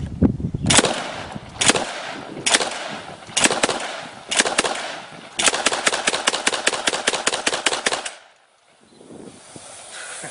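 An AA-12 shotgun fires fully automatic in several loud bursts of rapid, sharp blasts, ending in a long sustained string of shots before falling quiet.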